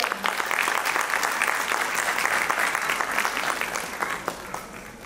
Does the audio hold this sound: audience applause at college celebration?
yes